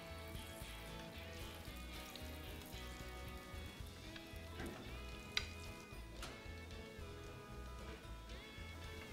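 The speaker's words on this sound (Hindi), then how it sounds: "I am just swirling the ghee. It will just make sure that टिक्की चारों तरफ से इवन फ्राई हो रही है।" Sweet potato tikki fry gently in swirled ghee on a tawa over low heat, a soft, steady sizzle with light crackles close by, under a faint humming background.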